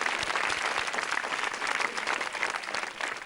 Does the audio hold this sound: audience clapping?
yes